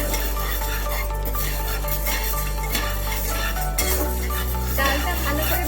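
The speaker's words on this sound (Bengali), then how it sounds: "বিউলির ডাল রান্না করার জন্য প্রথমে আমি কড়াইয়ে 1 কাপ বিউলির ডাল হালকা করে ভেজে নেব" Dry urad lentils (biulir dal) roasting in a kadai, with steady stirring and scraping against the metal over a constant low hum, loud and close throughout.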